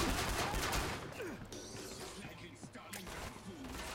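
Explosions and gunfire from the co-op zombie shooter Killing Floor 2, on the Hell on Earth difficulty: a dense, continuous fusillade of shots and crashing blasts, loudest in the first second and then steady. A voice is faintly audible underneath.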